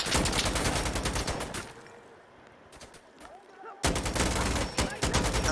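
Sustained automatic gunfire erupts in the video game Insurgency Sandstorm, loud, dense bursts that stop for about two seconds and then resume, with voices shouting over the battle.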